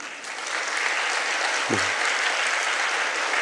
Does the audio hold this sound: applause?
yes